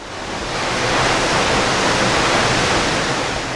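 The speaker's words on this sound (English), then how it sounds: "So we have another option in Materuni Waterfall." Materuni Waterfall just outside Moshi, Tanzania, gives a loud, steady, broadband roar of falling water that fills the whole stretch without a break, heard alone with no voices.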